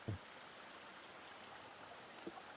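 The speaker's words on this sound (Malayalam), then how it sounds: "ഈ വെള്ളമാണ് ഇങ്ങോട്ട് ഒഴുകി പോകുന്നതാണ്" Quiet, steady flowing water, a soft constant rush like a small stream overflowing from a pond, with a couple of faint knocks.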